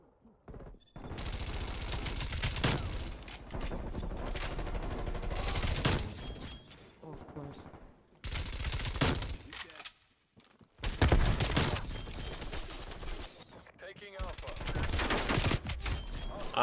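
MP5 submachine gun fire in Call of Duty Cold War, long rapid automatic bursts separated by short pauses, loud and close, with speech breaking in between volleys.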